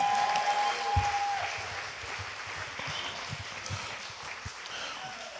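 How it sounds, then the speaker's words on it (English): A church congregation at a Christmas worship gathering claps in a sustained burst of praise, dense and even, slowly fading, with a faint held tone and a little background voice. "give God one more clap offering of praise"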